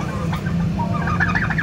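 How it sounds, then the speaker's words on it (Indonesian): A big turkey calls with a run of bubbling, clucking notes close by, steady and moderately loud with no talk over it. "Ini namanya ayam kalkun."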